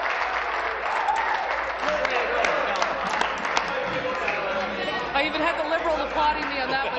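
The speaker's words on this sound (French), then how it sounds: "Il y a même les libéraux qui m'ont applaudi." Applause fills a parliamentary chamber during question period, steady clapping mixed with crowd chatter and voices talking throughout.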